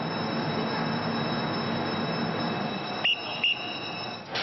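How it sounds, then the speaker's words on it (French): Trains at the Gare du Nord station during rush hour: a steady, loud rumble of rolling wheels and rail noise with a sustained high metallic squeal, then two brief sharp tones near the end. "À la gare du Nord, c'est l'heure de pointe."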